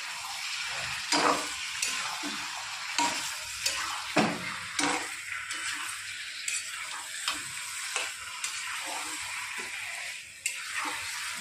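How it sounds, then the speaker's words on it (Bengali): Steady sizzling of chicken stir-frying in a wok, punctuated by repeated scraping clicks of a spatula stirring, close and continuous without talk. "এবার আমি চিকেনটা কড়াইতে দিয়ে 2 মিনিট নাড়াচাড়া করে নেব, একটু ভাজা ভাজা করে দেবো"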